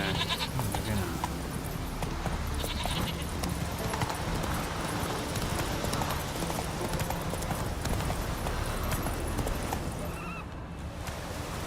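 Roach, the horse in The Witcher 3: Wild Hunt, gallops with steady, continuous hoofbeats and occasional whinnies while a player talks over the game.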